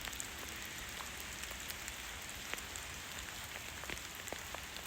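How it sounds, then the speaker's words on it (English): Rain patters on a jacket hood at a woodland campsite, a close, steady hiss with sharp individual drop taps scattered through it, no voices. "it's probably just the rain on my hood"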